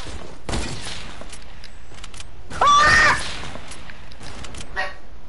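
A sniper rifle fires in an online shooter game, with a sharp crack and a bright ringing tail sitting in the middle of steady game noise and background sound.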